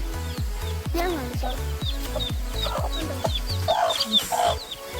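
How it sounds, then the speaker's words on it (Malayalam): Chicks and chickens at a home coop give soft clucks and high peeping chirps, scattered and close, over a loud rhythmic thumping in the background. "ഇതാണ് നമ്മുടെ വീട്ടിലെ കോഴിക്കുഞ്ഞുങ്ങൾ."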